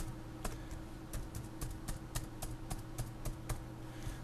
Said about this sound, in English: So we'll type in exactly that.